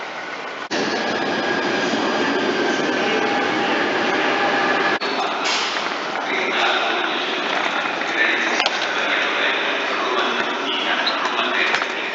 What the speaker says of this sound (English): I'm about to take the train, the Italo train